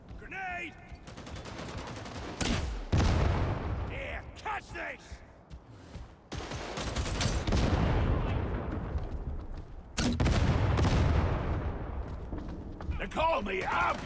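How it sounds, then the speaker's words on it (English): Video game sniper and heavy gunfire in a chaotic battle, with sharp cracking shots and bursts of automatic fire repeating at close range, loud blasts around two, six and ten seconds, voices shouting over the fighting. "That sniper's still alive and is still taking pot shots."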